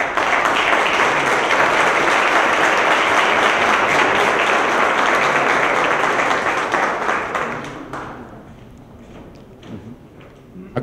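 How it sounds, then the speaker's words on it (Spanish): Loud, dense audience applause at a formal agreement-signing ceremony between two institutions rings out steadily, then tapers off over the last few seconds into a few scattered claps and near silence. "Démosles un fuerte aplauso."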